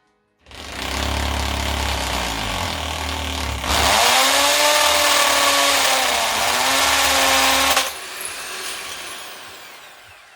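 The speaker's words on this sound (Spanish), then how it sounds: "Cogemos nuestro taladro y comenzamos a taladrar." A power drill bores holes into a wall, spinning up with a loud whine and grinding through the material in two sustained bursts, then winding down, with no talking.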